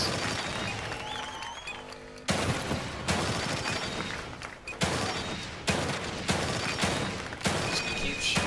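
Repeated gunshots in The Evil Within 2, loud sharp blasts landing at a fairly regular pace, each with a ringing decay, over a dense game soundscape.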